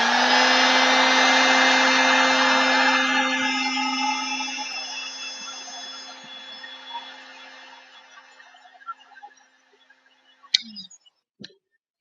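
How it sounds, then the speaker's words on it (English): A small industrial hair dryer used for heat shrinking: a loud blower-like motor whine runs steadily, then slowly fades out, followed by a few sharp clicks and taps near the end. "I've got this little industrial hair dryer"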